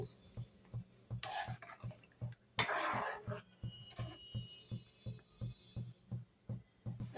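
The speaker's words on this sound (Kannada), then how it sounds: "ನೋಡಿ ಇವಾಗ ಮಿಕ್ಸ್ ಮಾಡೋಣ ಚೆನ್ನಾಗಿ" A utensil scrapes and clinks steadily around a pan of chicken gravy in a regular stirring rhythm, with a couple of brief louder rustles partway through.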